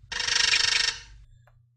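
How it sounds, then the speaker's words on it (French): A telephone on the French Téléchat television show gives one short burst of rapid trilling electronic ringing, loud and close, then it cuts off to silence. "That's how a telephone rings?"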